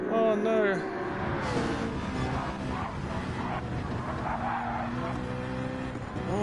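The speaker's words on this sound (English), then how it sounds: "as the Citroen goes into the barrier and takes himself out" Citroen race car in a racing video game hitting a barrier, with engine whine, skidding tire noise and impact clatter under steady commentator talk.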